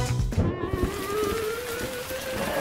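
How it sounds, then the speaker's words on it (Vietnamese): Rain falls steadily in a Gacha Life animation, a dense hiss of drops with a low thunder rumble at the start and a rising tonal sweep layered through the wash. "Trời ơi, trời mưa rồi."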